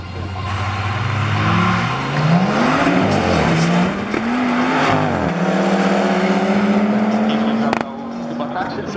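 An Audi RS6 accelerating hard down a quarter-mile drag strip, its engine note climbing through several gear changes, loud and close, with a commentator talking over it.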